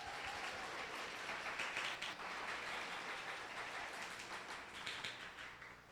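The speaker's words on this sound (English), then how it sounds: "A huge round of applause for all of you" A crowd at a hackathon pitch event applauds steadily for several seconds, a dense patter of clapping that swells slightly and then gradually thins out, with no talking over it.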